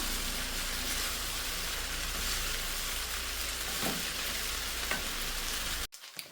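Drained macaroni cooks with tomatoes in a pan, giving a steady, dense sizzle and occasional soft stirring sounds, close by, before cutting off abruptly near the end; nobody talks.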